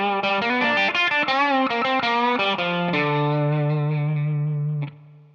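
Blues electric guitar intro, a quick run of bent, ringing single notes that settles into a long held low note, with effects and reverb giving the tone a warm, slightly distorted shimmer.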